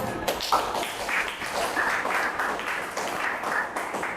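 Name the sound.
classmates applauding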